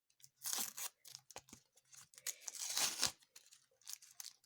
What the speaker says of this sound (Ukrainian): Давайте відкриємо пакетик.